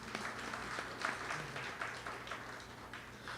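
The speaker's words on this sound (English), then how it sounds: "So give her a round of applause again." Guests applaud at an 80th birthday and satsangh night at a temple, giving a soft, steady patter of clapping heard from a distance at low volume.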